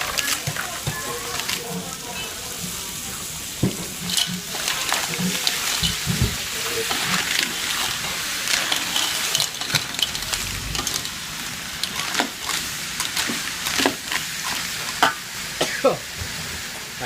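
Clams with chili paste sizzle and clatter in a large wok as they're stirred and tossed, with scraping metal hits and occasional talk over the cooking.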